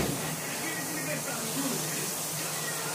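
Breaded tilapia fillet frying in oil, a steady soft sizzling hiss that stays even and fairly quiet throughout with no talk over it.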